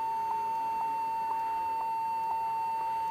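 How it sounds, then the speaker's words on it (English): A Compaq Presario laptop gives off a steady electronic beep tone, a clear high-pitched note held without a break, with faint short blips recurring alongside it in a quiet room. "Again beep tone is continuous"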